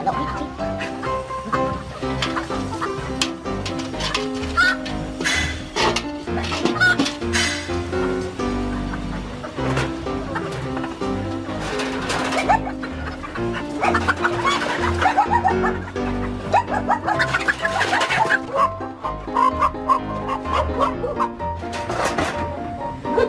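A chicken, the dominant bird of the coop, clucks and squawks during a chase to catch it, with dense, busy rustling, scattered calls and a near, fairly loud scramble throughout.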